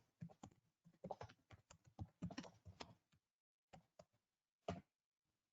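Typing code on a computer keyboard, close and quiet rapid key clicks in uneven bursts with short pauses, then a few isolated keystrokes.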